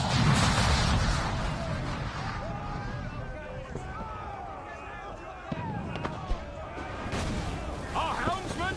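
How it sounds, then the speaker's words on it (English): Cannon fire in a pirate video game, with booming volleys mixed into a continuous battle din and shouted voices throughout, loud and close. "cannons!"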